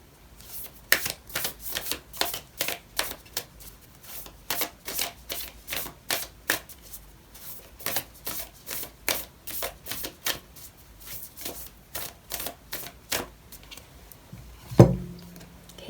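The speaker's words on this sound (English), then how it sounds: "I'm going to pull out an oracle card for you" Oracle cards being shuffled by hand for a reading, a run of quick, papery riffling bursts in an uneven rhythm, close and fairly soft, ending with a brief sharper knock.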